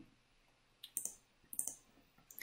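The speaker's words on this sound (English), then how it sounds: "I click OK." Computer mouse clicks while confirming a constraint in an Excel spreadsheet, heard as a few sharp, quiet, close taps in small clusters over a faint room hush.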